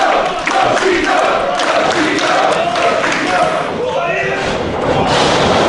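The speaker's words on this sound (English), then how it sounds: "And listen to this crowd." A pro wrestling crowd at a DGUSA tag-team match roars and cheers continuously, loud and close, with a commentator talking over the noise.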